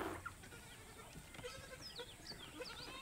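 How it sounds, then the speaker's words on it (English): A goat bleats faintly in a quiet room at night, a few short high calls late in the stretch against low background hiss. "I have a goat next to me."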